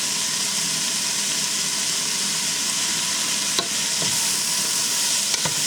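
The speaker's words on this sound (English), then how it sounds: "Just saute it a little bit around, get everything coated." Vegetables and shrimp for a low-carb Nicaraguan-style chop suey sauté in a pan, giving a loud, even frying hiss throughout, with a few brief scrapes of stirring near the end.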